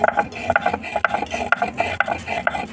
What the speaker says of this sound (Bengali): কটা এলাচ বেটে নেব।